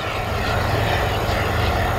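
An RC turbine jet on a long, low landing approach makes a steady, continuous whine and roar that holds at an even loudness throughout, moderately distant, with no talking.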